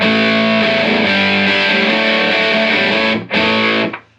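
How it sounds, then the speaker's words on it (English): An electric guitar plays sustained, heavily distorted chords through a Boss Nextone Special amp, loud and dense, with a brief break near the end before a final ring-out. "actually the distortion sounds better in the higher registers."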